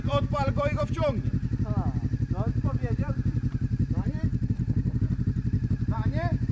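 A KTM motorcycle engine runs steadily and loudly throughout, its low throbbing drone continuous while people talk over it.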